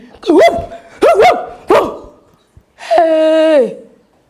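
A dog barks three times in quick succession, then lets out a longer drawn-out whining howl, loud and close, in an African film scene.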